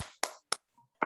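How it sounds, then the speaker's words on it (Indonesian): A group performs a 'tepuk semangat' spirit clap during a numeracy training session: four sharp, unison clap bursts in an uneven rhythm, close and crisp, with short silences between them. "Tepuk semangat."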